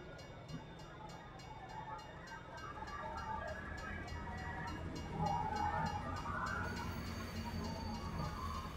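A train in the video game Farming Simulator 22 rumbles steadily along the rails, a continuous low mechanical drone with rhythmic clatter that swells slightly midway, with no talk over it.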